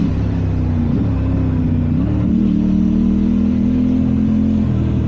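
A 2023 Aprilia Tuono 660 A2 motorcycle cruising through town at steady speed, a loud, continuous mid-pitched engine drone with slight pitch shifts and wind rush.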